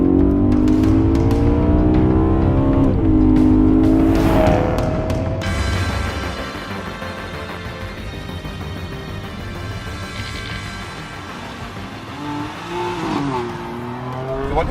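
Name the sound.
BMW M3/M4 engine sound while driving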